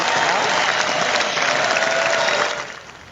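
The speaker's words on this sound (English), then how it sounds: "Big round of applause for that." Audience applause with a few cheers bursts out briefly, dense and loud before dropping off quickly near the end.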